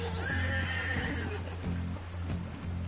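A horse in the video game Red Dead Redemption 2 whinnies loudly with a long shaky neigh, followed by a few hoof clops and snorts close by.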